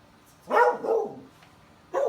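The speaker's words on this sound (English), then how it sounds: "she's really wanting to offer a lie down and bark at me" A dog barks in two loud, close bursts during an indoor training session. The first bark is longer and the second comes after a short quiet gap.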